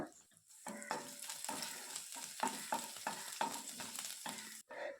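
Ginger, garlic, urad dal and dry chilli sizzle and fry in hot oil for a Kerala-style vermicelli upma, with steady crackling and bursts of stirring taps, close and fairly loud, no talk.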